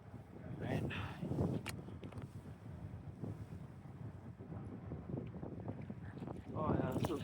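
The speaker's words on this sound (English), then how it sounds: "Paddling into the wind out of this campsite we stopped at." A canoe is paddled into a headwind on a lake in Northern Ontario. Gusts buffet the microphone over lapping water, with a voice murmuring faintly beneath.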